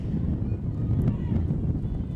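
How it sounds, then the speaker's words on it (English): Gusty wind buffets the microphone high atop a football stadium press box, a loud rumbling roar that swells and dips with no clear break. "it's pretty windy up here"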